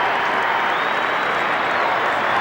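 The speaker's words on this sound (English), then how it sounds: "the crowd giving Craig Biddiscombe a hell of a seeing off here" At a 1999 Richmond v Brisbane Australian football match, a large crowd gives a departing player a loud, sustained round of applause, a dense even roar of clapping with no let-up.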